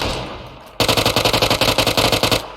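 After a quiet lead-in, a gun in PUBG opens up in a loud, rapid burst of around twenty evenly spaced shots, sharp and close, rattling steadily to the end.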